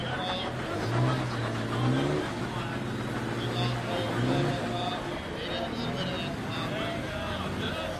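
A Jeep off-road rig revving as it works over a rock obstacle at an off-road games event, the engine surging and easing in repeated pulls, with people talking nearby.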